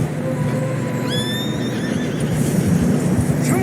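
A horse whinnies loudly in a snowy video game scene, a rising then falling neigh close by, over a constant wash of wind and ambient background noise.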